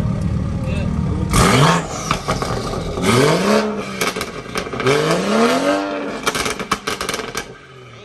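A BMW M5 with a burble tune is revved several times, each throttle blip rising and falling sharply with crackles between, loud and close, with people talking over it.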